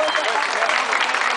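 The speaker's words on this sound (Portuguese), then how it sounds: "Aplausos." A crowd applauds at the finish of a São Silvestre road race in Pratápolis, dense steady clapping filling the short stretch with a voice underneath.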